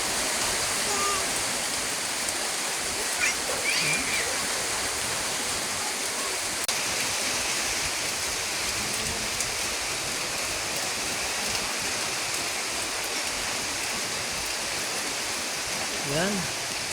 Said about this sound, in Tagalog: Ang lakas-lakas ng ulan, hangin.